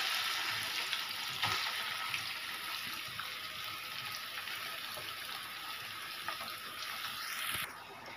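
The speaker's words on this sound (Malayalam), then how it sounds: "എണ്ണ ചൂടായിട്ടുണ്ട്. അതിലോട്ട് പുരട്ടി വെച്ചേക്കുന്ന കൊഞ്ചിട്ട് കൊടുക്കാം." Marinated prawns frying in hot coconut oil for a prawn biriyani, a steady, close, crackling sizzle throughout with brief pops and a faint stir near the end.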